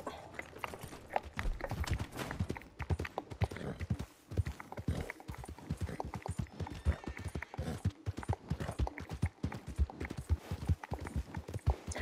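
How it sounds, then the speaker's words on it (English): Rhythmic hoofbeats of a horse trotting along in the video game Red Dead Online, a steady clip-clop at moderate loudness with no talking. "Call the horse."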